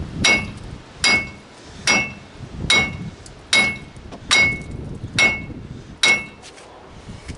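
A hammer strikes a wheel bearing on a 2009 GM truck in eight sharp metallic whacks at a steady pace about a second apart, loud and close, with no talking.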